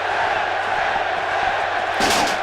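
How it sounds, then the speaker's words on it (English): Video game arena crowd at a WWE 2K18 wrestling match, a dense steady roar of voices with a rhythmic chant and a louder swell of cheering near the end. "Crowd chanting 10, but 10."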